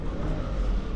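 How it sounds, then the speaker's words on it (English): A 2018 Toyota Sienna engine idles roughly while misfiring, a steady low rumble close by with an uneven, stumbling pulse throughout. "now it's running, but it's misfiring. It's not running smooth."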